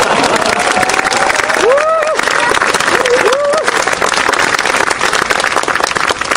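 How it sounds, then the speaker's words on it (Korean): A lecture audience breaks into sustained applause, a steady crowd clatter of many clapping hands, with a voice briefly rising over it a couple of times. "박수."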